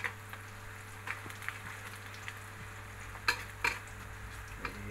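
Pounded cassava leaves with lemongrass seasoning being stirred in a pan: faint scraping and soft clinks of a utensil at irregular intervals over a steady low hum, with no talking.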